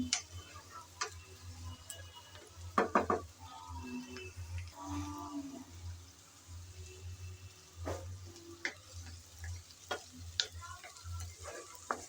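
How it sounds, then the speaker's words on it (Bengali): Shrimp frying in a pan with lightly fried onion and garlic, a steady low sizzle with clicking stirring taps and brief scraping bursts, close and continuous, no voices. "হালকা করে ভেজেই আমি চিংড়িগুলো দিয়ে দিলাম"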